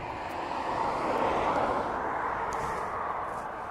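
A DHL cargo aircraft at East Midlands Airport gives off a steady, loud engine roar, a broad continuous rumble that swells slightly and holds without a break, heard from some distance with no voices.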